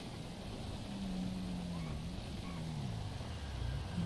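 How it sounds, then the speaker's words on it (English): Vehicle with a loud exhaust idling and rumbling outside, a continuous low droning engine note with a wavering pitch, shaking a window frame, heard from indoors at moderate level. "vehicle with loud exhaust, can you please leave? You're shaking the window frame."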